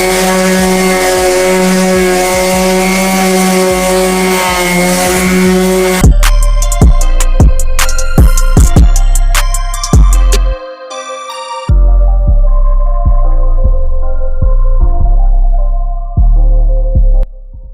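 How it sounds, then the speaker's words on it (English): Loud, steady whine of a power sander working cracked bodywork on a stepside pickup truck bed, running for the whole stretch, with a harsh buzzing drone that stutters briefly around the middle. "then we'll just start sanding up here"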